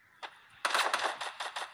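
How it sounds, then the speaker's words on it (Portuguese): Gunfire in the mobile game Free Fire, played on a Figi Note 1 Pro phone: one isolated shot, then a rapid burst of sharp, evenly spaced shots that repeat for over a second at moderate loudness. "Barulho de tiro."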